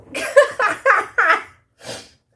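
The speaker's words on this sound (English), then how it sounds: "Oh, I've got to sneeze." A person's sneeze arrives close and loud after several quick gasping intakes of breath in a rising rhythm, then a brief silence and one softer final exhale.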